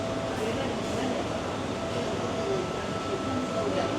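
Steady rumble and hum of the Hong Kong Peak Tram on its ride up to the Peak, a continuous mechanical drone throughout with faint voices and tonal whines in the background.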